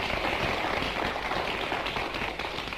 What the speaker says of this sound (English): Round of applause for Maud.